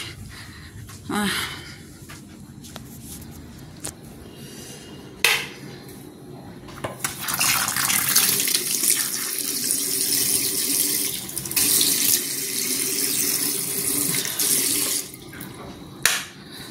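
Tap water runs steadily into a sink close by for several seconds while someone washes their face, with splashing and a few sharp knocks before and after, and occasional voice in the background.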